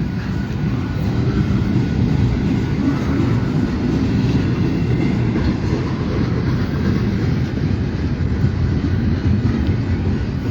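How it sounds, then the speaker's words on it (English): A freight manifest train rolls past on the rails at Fremont, with a loud steady rumble and rail noise holding for the whole stretch and no one speaking. "The back end of this train is going to be a manifest also going to the Bluffs"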